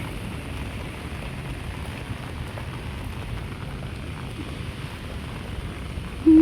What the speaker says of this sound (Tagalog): lumalakas yung ulan, grabe.